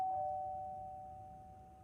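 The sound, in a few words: doorbell ringing in the video game Z.A.T.O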